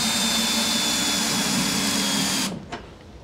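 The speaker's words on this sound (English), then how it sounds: "these adapters that make your drill fit a socket bit. And it makes the job a lot quicker." A power drill drives a socket bit through an adapter, a steady loud whirring that runs continuously for about two and a half seconds before stopping abruptly, followed by a brief faint clunk.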